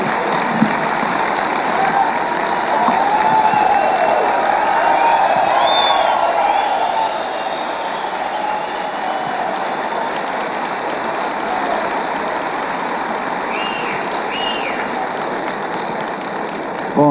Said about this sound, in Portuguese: é o que saiu mais aplaudido até agora